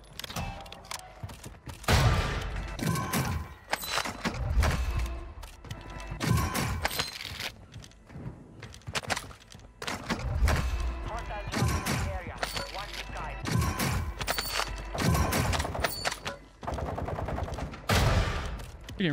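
Bursts of M4 assault rifle fire crackle through a Warzone 2 match, loud automatic volleys mixed with clanking mechanisms and impacts, coming in repeated clusters alongside intermittent talking.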